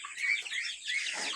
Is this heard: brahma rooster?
yes